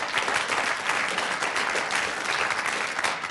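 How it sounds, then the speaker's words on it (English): Studio audience applauding a game show contestant after a hard-luck round on Blockbusters, a steady, dense wash of clapping that holds evenly throughout without any voices. "A round of applause."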